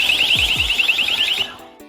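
An LRAD 2000X long-range acoustic device blasts a loud, piercing warbling tone that pulses rapidly and continuously for about a second and a half and then cuts off abruptly.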